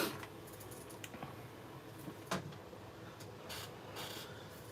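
Thick black cardstock being scored on a scoreboard: faint, short scraping and tapping strokes come close and quiet, spaced irregularly, with no talking.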